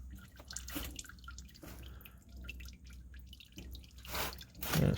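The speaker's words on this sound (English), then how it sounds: "Get it to where it's dripping from the drain plug" Engine oil drips from a car's drain plug during an oil change: soft, irregular wet drips and splats, close by and fairly quiet, with no talking.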